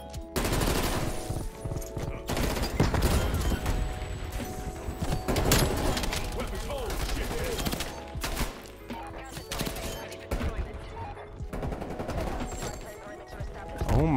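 Automatic fire from an XM4 rifle in Call of Duty Cold War rattles almost nonstop across the whole stretch in dense, loud bursts, with faint game chatter underneath.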